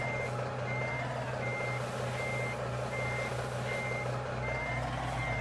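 A truck backing a trailer in American Truck Simulator sounds a regular, evenly spaced reversing beep over a steady low engine idle hum, close and clear, no talk.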